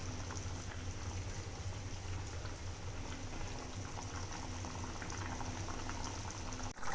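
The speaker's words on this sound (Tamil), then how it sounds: "நல்லா கொதித்து வெந்து வருது" Garlic kuzhambu simmers in a pot, bubbling at a steady, dense boil that carries on evenly and alone from start to finish.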